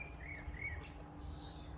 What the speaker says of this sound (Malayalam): നമ്മൾ പതിയെ ഇവിടെ മിണ്ടാതിരുന്ന് നമ്മൾ ശ്രദ്ധിച്ചിട്ടുണ്ടെങ്കിൽ നമുക്ക് ഒരുപാട് പക്ഷികളുടെ സൗണ്ട് കേൾക്കാൻ പറ്റും.